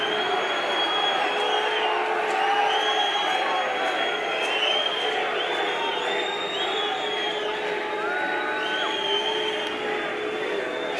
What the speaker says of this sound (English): Bit of booing going on.